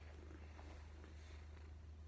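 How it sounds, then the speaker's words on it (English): A cat purrs close and steady, a low continuous rumble that stays quiet and even throughout with no other sounds. "we've got a cat who's apparently very needy for attention"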